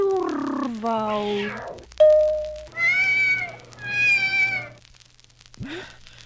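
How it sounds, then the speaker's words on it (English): A cat meows a couple of times, high and drawn out, with a person talking softly around it. "Here, kitty, kitty, kitty. Nice, kitty, kitty."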